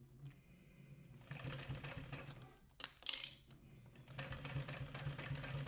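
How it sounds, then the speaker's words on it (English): A sewing machine stitches a leather wallet pocket, its rapid, steady mechanical chatter running in close bursts with a short pause partway through before it resumes. "we're going to sew from the interior"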